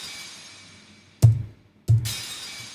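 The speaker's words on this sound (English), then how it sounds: "So it has like that crash transient," Two sharp crash hits, each with a bright shattering glass-like burst decaying into a short digital plate reverb tail, spaced about half a second apart against a quiet background hiss.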